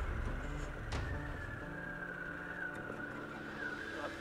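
Harley-Davidson Pan America motorcycle riding over a slippery gravel road strewn with loose stones, a steady engine drone mixed with crunching tire noise at constant loudness, with no one speaking.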